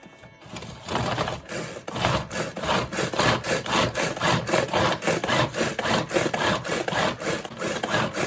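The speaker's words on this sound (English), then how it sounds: "I'm going to cover this and chop my spices here" Spices and parsley being chopped for a Jamaican-style falafel mix make loud, close, rhythmic chopping pulses that repeat evenly for several seconds, with no talking.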